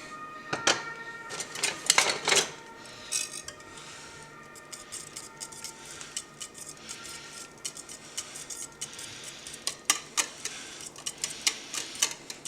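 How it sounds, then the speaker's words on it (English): Norwegian rømmegrøt porridge whisked in a pot, producing irregular metallic clicks and taps of the whisk against the pot that grow busier and more rapid toward the end, close and fairly quiet. "Yeah, I'm going to switch to a whisk now."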